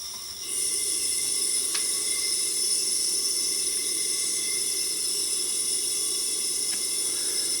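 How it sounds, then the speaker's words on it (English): A budget battery-powered smoke machine steaming with a steady, loud hiss that holds unbroken after a short rise, along with a few faint clicks and no talking. "The longer you have the battery hooked up, the more it starts steaming."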